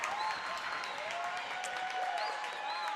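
A crowd at a girls' varsity high school basketball game claps and cheers continuously on its feet, a dense, steady wash of applause with occasional shouts.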